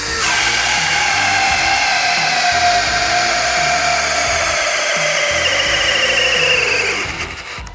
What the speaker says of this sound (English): I'm gonna throw it in speed 2. We're still on our hammer drill.